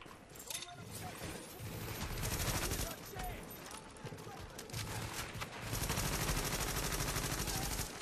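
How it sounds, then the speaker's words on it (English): Rapid automatic gunfire from enemies in The Division, with bursts of shots rattling across several seconds in a dense, loud firefight, pausing briefly then resuming. "NPC, taking fire at me."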